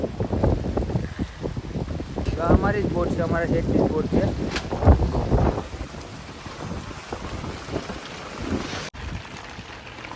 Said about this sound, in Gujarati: પવન ને વાવડો મોજો હજી ફૂલે ફૂલ છે